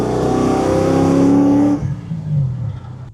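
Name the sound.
1973 Pontiac Firebird Trans Am LS3 engine accelerating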